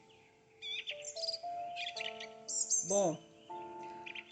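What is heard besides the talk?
birds singing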